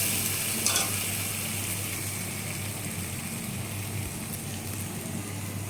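Tomato paneer cooking in a pan over low gas makes a soft, steady sizzle with a faint hiss, and one brief clink early on.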